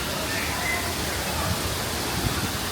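Water features at a kids' splash area on a Royal Caribbean cruise ship spray and splash steadily, a broad continuous hiss that fills the space, with a person speaking faintly over it.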